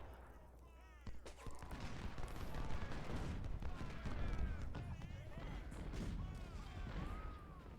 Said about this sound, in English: Oh, the artillery is showing up.